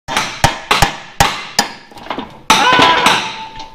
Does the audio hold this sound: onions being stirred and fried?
no